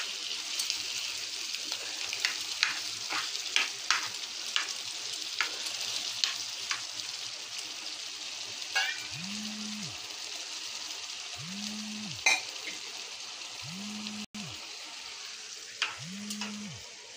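Fish pieces and fish heads frying in a pan for a Bengali fish curry, a steady close sizzle with crackles and pops, while four evenly spaced low electronic hums sound over the latter half.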